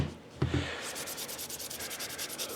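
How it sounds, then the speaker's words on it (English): A Scotch-Brite pad scrubs a Bosch router base, making a steady, close, rhythmic rubbing and scouring with quick back-and-forth strokes after a brief contact bump. "Scotch-Brite pad will clean this stuff up"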